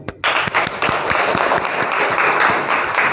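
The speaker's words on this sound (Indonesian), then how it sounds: "kita beri aplaus untuk semua kelompok" Classroom applause for all the discussion groups, a dense burst of many hands clapping that starts after a short pause and carries on steadily and loudly throughout.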